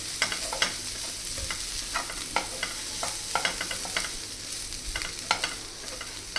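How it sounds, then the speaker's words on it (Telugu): A spoon scrapes and stirs through a pan of potato fry just after lemon juice goes in, with irregular clinks and scrapes over a soft, steady sizzle close by. No one speaks. "నిమ్మకాయ వేసేసి బాగా కలిపేసేయండి"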